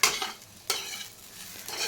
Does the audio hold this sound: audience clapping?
no